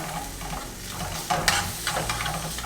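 Sweet and sour peppers sizzling in a hot pan as they are stirred, a constant loud frying hiss broken by a few scraping stir strokes.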